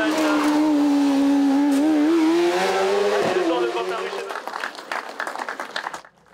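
A Single Track ST01 race car at the Vuillafans hillclimb gives a loud, close engine howl that climbs and holds, then drops in pitch and fades into crackling as it pulls away.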